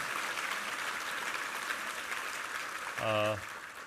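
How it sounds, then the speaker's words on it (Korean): Congregational applause in a church after a sermon reading, a steady diffuse patter of many hands lasting several seconds, with a brief tonal voice or sung note rising near the end. "우리 하나님께 감사와 영광의 박수 올려드리겠습니다"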